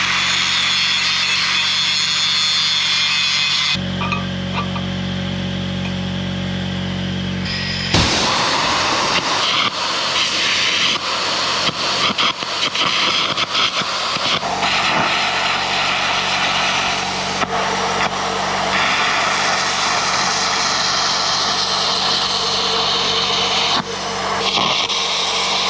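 Carbon arc gouging on steel with an HTP welder and compressed air jets, a loud continuous roaring hiss with crackling that shifts in tone partway through and keeps going unbroken for the full stretch.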